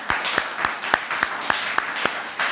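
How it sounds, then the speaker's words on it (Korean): A church congregation claps together at an Easter Sunday worship service, a steady wash of applause with a regular beat of sharper claps, moderately loud and filling the room. "우리 하나님께 우리 크게 영광의 박수를 올려드리겠습니다"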